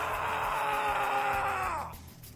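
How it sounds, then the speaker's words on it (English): A loud, sustained human scream, strained and drawn out, holding steady before breaking off into quieter breathy noise. "Excellent scream."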